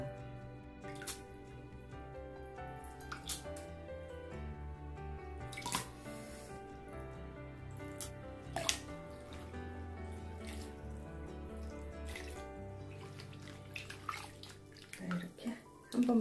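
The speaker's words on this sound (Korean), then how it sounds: "이렇게 한 번만 더 해서 헹궈 주겠습니다." Seaweed (miyeok) for beef seaweed soup is rinsed by hand under a running kitchen tap, a steady stream of water splashing and sloshing in a sink with occasional louder swishes near the end.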